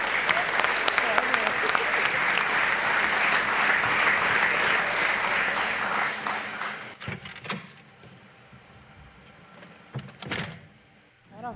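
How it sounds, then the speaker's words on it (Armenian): An audience bursts into dense, loud applause that runs for about six seconds, then cuts away to a quieter scene with a few thumps and brief talk. "ծափերով, գնացինք։"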